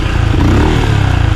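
A Benelli Imperiale 400 single-cylinder motorcycle thumps along on a test ride, its exhaust giving a loud, close, steady pulsing rumble with a slight rise in revs.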